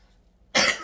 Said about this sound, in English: What am I gonna do about this cough?